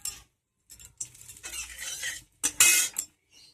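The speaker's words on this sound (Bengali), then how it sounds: "তো প্রথমে তেলে দিয়ে দেবো গোটা মশলাটা।" Whole cardamom, cinnamon and green chili drop into hot oil in a wok, giving short bursts of sizzling and metallic clatter from a utensil, close and fairly loud with silent gaps between them.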